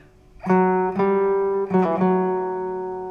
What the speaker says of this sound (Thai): ต่อไปเป็นเมโลดี้นะครับเป็นอย่างนี้นะ